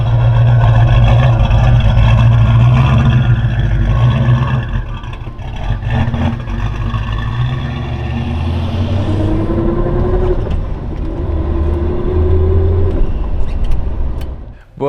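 A Dodge with a V8 biturbo engine and three-speed gearbox idles with a deep, loud rumble, then revs and pulls away in first gear, the engine note climbing before fading off.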